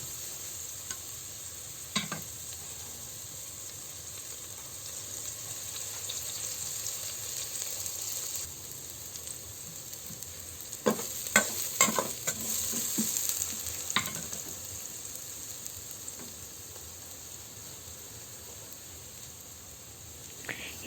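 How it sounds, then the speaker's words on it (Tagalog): Sliced onion sautéing in a pan for a sponge gourd dish with glass noodles and crab, a steady quiet hiss with a cluster of louder stirring scrapes midway. "Ilagay na din natin ang hiniwang sibuyas. Lutuin din natin yan ng 1 minuto."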